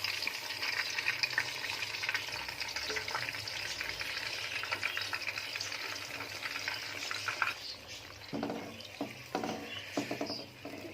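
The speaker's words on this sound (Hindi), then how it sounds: "इस मसाले को हम अच्छी तरह से भून लेंगे। उसके बाद इसमें चिकन शामिल करेंगे।" Marinated chicken and masala sizzle and fry in a pan, a dense steady crackle that later turns into intermittent bursts of stirring and scraping, faint overall.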